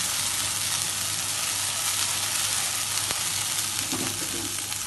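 Garlic and ginger frying in hot oil for prawn karahi, a steady close sizzle and crackle with a faint tap of a utensil partway through.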